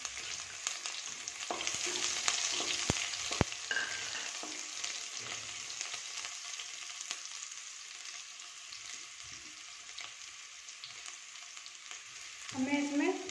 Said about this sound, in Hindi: अब मैं इसमें प्याज डाल देती हूँ।